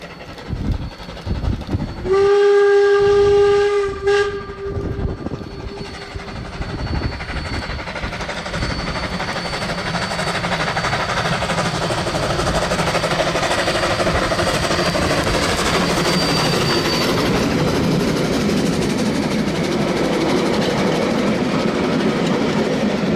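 A steam locomotive hauls its train past on a photo run-by near the lime works at the Woodville end of the Manawatu Gorge, opening with a loud whistle blast, then building into a sustained roar of exhaust and rolling wagons close by.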